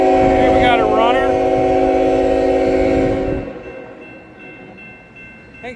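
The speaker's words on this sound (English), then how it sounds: "That's a grain train, all right." A grain train sounds its horn loudly with long, steady blasts up close, then the horn stops and the rumble and clatter of the passing cars carries on more quietly.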